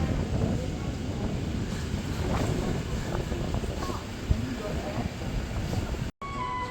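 Wind outdoors on a trip to Gunung Geulis, continuous loud buffeting rumble across the microphone with gusty swells, people talking faintly beneath it.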